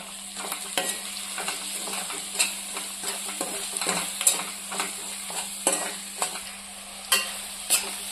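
Chilli powder, turmeric and spices frying in hot oil for a cauliflower tomato curry, stirred with a steady sizzle and repeated spoon scrapes against the pan, close and moderately loud, no talking.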